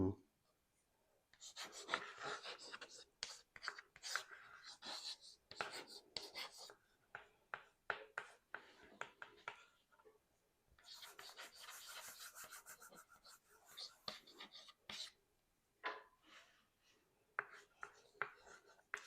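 Pen scratching across paper in quick bursts of strokes with short pauses, close and fairly loud, during a couples' question game at home; quiet breathing and faint murmurs between strokes.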